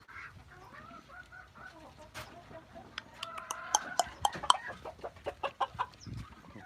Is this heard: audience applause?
no